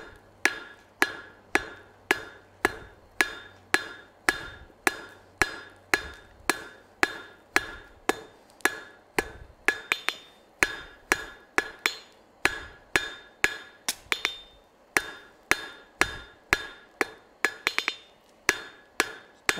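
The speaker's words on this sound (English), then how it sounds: "let's go back to the anvil, Jess" A hammer strikes hot metal on an anvil at a live forging demonstration, ringing out in a steady, fast rhythm of loud, sharp metallic blows that continue for the whole stretch with only brief pauses.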